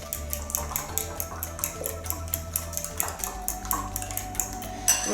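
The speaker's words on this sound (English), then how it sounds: "So we're going to start whisking." Beaten eggs being whisked for Italian scrambled eggs, the whisk tapping against the bowl in a fast, steady clatter of ticks that runs the whole time at close range, with no talking.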